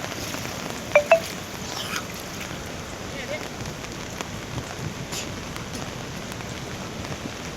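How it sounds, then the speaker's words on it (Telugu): Heavy rain pours down in Medak district, a dense continuous hiss of drops on surfaces with a couple of sharp knocks near the start. "విపరీతంగా వర్షాలు కురుస్తున్నాయి"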